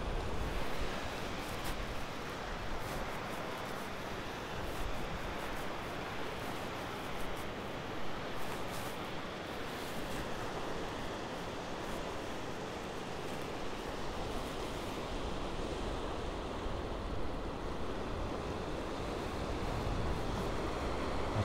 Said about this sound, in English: the Atlantic Ocean breach through the Fire Island Barrier Beach here, created by Superstorm Sandy